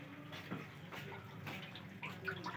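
Water pours into a large pot of soaked rice for beef yakhni pulao, a soft steady splashing and trickling that is faint and close.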